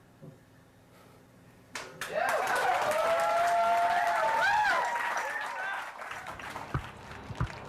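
A street crowd watching fighting firemen wrestle breaks into sustained applause and cheering that swells after a quiet start, then thins out into scattered claps and shouts.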